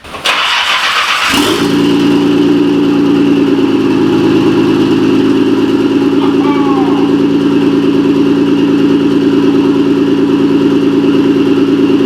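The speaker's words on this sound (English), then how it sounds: "So this is a cold startup on a truly straight piped R33 GTR." A straight-piped Nissan R33 GTR engine cranks and fires on a cold start, then settles into a loud, steady, rumbling idle held close by for the rest of the clip.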